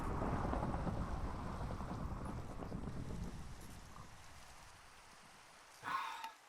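Heavy rain in Minecraft pours steadily with a deep rumbling wash, gradually easing off, then a short sharp knock near the end.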